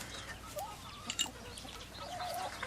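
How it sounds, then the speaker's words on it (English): Backyard farm chickens locked out of the garden, squabbling over pecking order; a mix of short clucks and squawks, close and fairly loud, scattered irregularly over outdoor background noise. "our old chickens are feeling cranky because we have locked them out of the garden"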